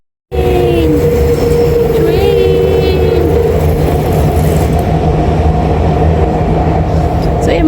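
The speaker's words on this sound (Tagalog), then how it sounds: "Ayun, yung train." A train passes nearby, sending a loud, steady rumble of rolling wheels with thin squeals and tonal whines on top. Faint voices sit in the background.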